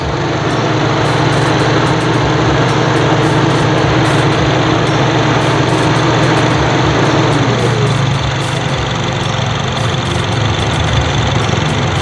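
A warm Honda City engine idling steadily with no unusual noises, loud and close with a constant hum and a faint high whine, the radiator fan running.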